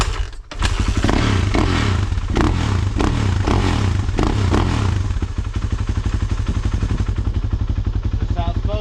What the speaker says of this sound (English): 3 kicks.